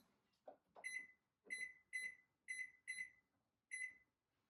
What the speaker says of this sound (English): as you can hear, the timer's going off, so let's turn that off